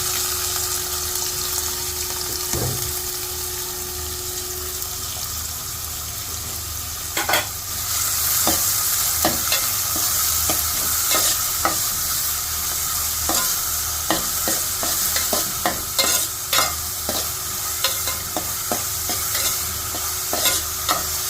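Onions, medium size, fry in a pan with cinnamon, cloves and cardamom for chicken stew, a continuous sizzle broken by repeated sharp scrapes of a spoon stirring, close and with no voices.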